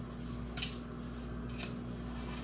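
A spoon stirs homemade brownie batter in a bowl, giving two brief, light clinks against the bowl over a steady low background hum.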